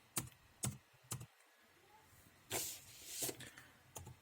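Typing on a computer keyboard, heard as a few distinct, close clicks spaced out irregularly over a quiet background with a brief hissy rustle partway through.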